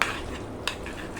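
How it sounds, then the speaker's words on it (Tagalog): Pancit miki guisado noodles being stirred in a pan, with soft scraping and a sharp utensil clink partway through, close and clear without talk. "haluin lang natin guys ang ating pansit"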